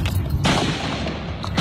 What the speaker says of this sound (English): A cell phone capturing the sounds of gunfire on a baseball field as a man opens fire at members